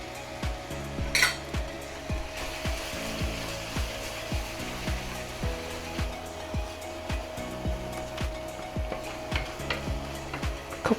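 Turmeric and Kashmiri chilli powder cooking in a pan for aloo gobi, with a soft sizzle and a regular scraping of the spoon against the pan, close and steady with no talking.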